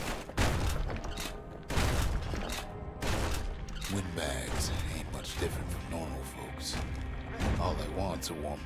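A shotgun fires repeatedly in the video game Bastion, heavy thumping blasts landing at irregular intervals amid busy game effects, with a voice narrating over them.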